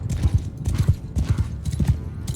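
Galloping horse hooves from the Mount & Blade II: Bannerlord video game, a steady drumming clip-clop of repeated thuds in groups, close and prominent.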